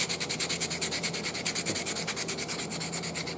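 Sandpaper rubs back and forth on the bottom of a small wooden icicle ornament in fast, even strokes, close and soft, with a faint steady hum underneath.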